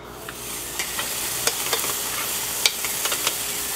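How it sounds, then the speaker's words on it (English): Beef short ribs sear on a hot barbecue grill, a steady close sizzle with scattered sharp crackles and pops of spitting fat. "The BBQ is nice and hot. Time to throw on the first couple of short ribs."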